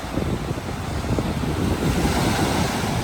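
Ocean surf washing onto a beach, a steady broadband rush of breaking waves with some wind buffeting the microphone, constant and fairly close throughout.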